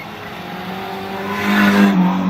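The engine of race car number 158 roars steadily as it pulls onto the racing line at a heavy crash event, its note rising loud and close and with no talking.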